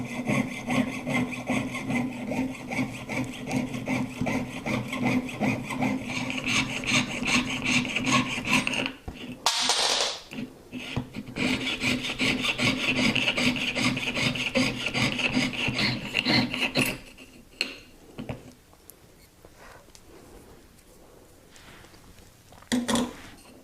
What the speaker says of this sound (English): I'm going to use my jeweler's saw to cut through this